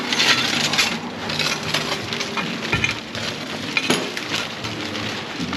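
Shards of broken window glass are dumped into a contractor-grade trash bag, giving a loud, continuous crunching and tinkling clatter close by with no voices.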